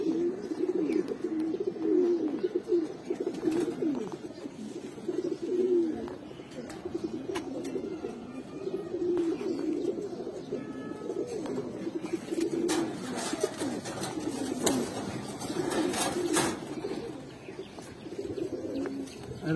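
Giribaz pigeons, including Bagha, Chila, green-necked and black-necked birds, coo steadily in low repeating murmurs close by, with a few faint chirps and brief wing sounds over a constant soft background.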